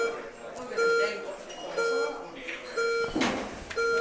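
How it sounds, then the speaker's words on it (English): Short electronic shot clock timer beeps repeat at a steady one-per-second rhythm beneath a murmuring crowd and background talk. "It's when the beeps start, you've still got a third of your time left."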